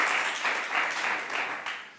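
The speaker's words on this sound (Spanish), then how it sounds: "pues un aplauso, ¿no?" A roomful of people claps at a panel session in Zaragoza, a brief burst of dense applause that swells and dips in waves over two seconds.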